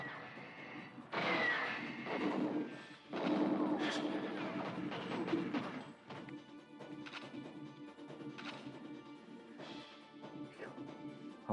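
Gunfire in the video game GoldenEye 007 comes as loud, rough bursts of shots and crashing impacts, followed by lighter scattered shots and clatter over several seconds.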